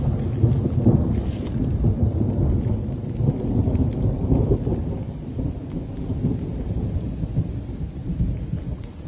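Thunder rolls through a thunderstorm, a loud, deep rumble that swells and fades over steady rain, with no voices.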